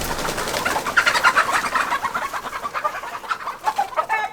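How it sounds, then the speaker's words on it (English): Backyard chickens clucking and murmuring close by while being fed, a busy chorus of overlapping soft calls and a few sharper squawks, with no talking. "Now the chickens have food, they're gonna follow me around a little bit."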